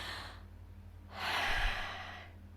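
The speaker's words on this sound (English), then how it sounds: "deep breathing, which is probably something I should do right now" One deep breath drawn in and let out slowly and audibly, close to the microphone, with a soft earlier exhale and no talking.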